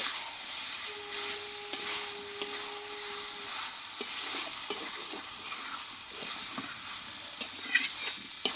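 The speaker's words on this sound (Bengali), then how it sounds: "বেশ চিকেনটাকে মশলার সঙ্গে কিন্তু আমি বেশ কিছুক্ষণ সময় নিয়ে কষিয়ে নেব।" Chicken stir-fried with homemade spices in a pan for a Bengali chicken dish, a steady sizzle and frying hiss with scattered scraping stir strokes, with a brief faint tone near the start and no voices.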